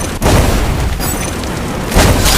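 A loud bomb explosion in a video game, with a heavy boom and a rumbling burst that carries on, then a second blast near the end.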